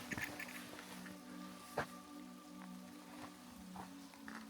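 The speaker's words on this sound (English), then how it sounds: "it's really starting to rain now" Steady rain falling on a Japanese mountain path, a soft continuous patter with a few louder drops and rustles, fairly quiet and without voices.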